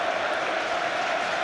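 A packed football stadium crowd at an FA Cup third round replay between Leeds United and Arsenal claps and roars, a broad steady wash of noise from thousands of fans, distant and unbroken.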